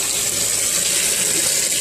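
Water drains steadily from rinsed vermicelli noodles into a kitchen sink, a continuous close rushing and splashing with no speech.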